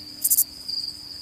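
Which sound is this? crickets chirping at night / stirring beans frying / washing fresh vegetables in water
crickets chirping at night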